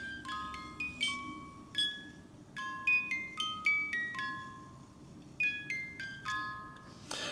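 A vintage Reuge musical automaton alarm pocket watch plays a delicate plucked-comb melody, quick bright notes in a tinkling tune, quiet and close, with no other sounds.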